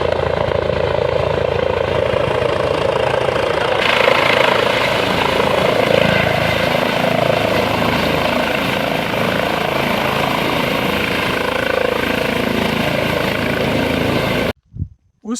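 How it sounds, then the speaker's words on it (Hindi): A helicopter sets down near a helipad, its rotor chop and turbine whine loud and steady for most of the span before cutting off abruptly at the end. "लेकिन उसके बाद हेलीकॉप्टर दोबारा आता है"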